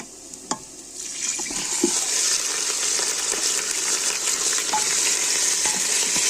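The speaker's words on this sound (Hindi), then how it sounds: "मटन को हमें जो है थोड़ा सा फ्राई करना है, ज़्यादा नहीं।" Mutton fries in a pot with green and black cardamom and a cinnamon stick for Kashmiri-style soup, a close, steady sizzle broken by a few clinks and stirring scrapes.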